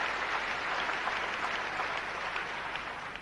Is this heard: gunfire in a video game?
no